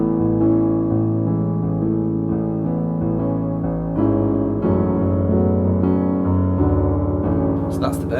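Piano playing the verse of a song in a slow, steady run of sustained chords and bass notes, heard clearly and alone, with a brief faint knock near the end.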